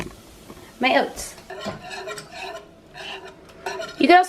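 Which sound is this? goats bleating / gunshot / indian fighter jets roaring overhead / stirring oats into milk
stirring oats into milk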